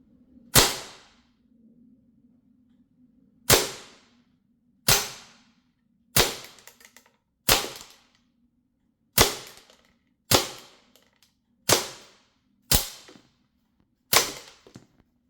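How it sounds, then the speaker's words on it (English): An Umarex AR-15 Strike Force automatic airgun fires ten sharp, snapping shots one at a time, spaced about a second or two apart, loud and close with silence between them. "I fired 10 shots"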